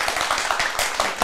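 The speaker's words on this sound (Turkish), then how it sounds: "Konuklarıma alkış istiyorum." Studio audience clapping for guests on a Turkish daytime TV talk show; a short, dense burst of applause with no talking.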